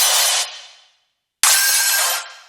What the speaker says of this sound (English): It's almost like a tonal breaking glass.